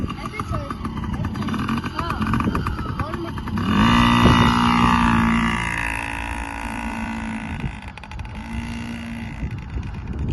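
A 2020 Yamaha PW50 small motorcycle engine idles and revs nearby, swelling louder midway and then settling, while people talk over it throughout.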